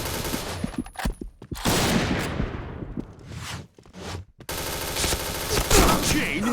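A video game headshot training session, with bursts of rapid gunfire and sharp shots separated by brief silences and whooshes. The shots come in clusters and sound close and loud.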